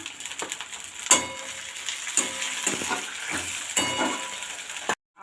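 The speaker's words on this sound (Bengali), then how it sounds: "একটু জিরা ফোড়ন দিয়ে দিলাম। এরপর টমেটো কুচি দিয়ে দিলাম।" Chopped tomato frying in hot oil with garlic and cumin seeds, a dense continuous sizzle close and loud, broken by several sharp spatula knocks against the pan before cutting off abruptly near the end.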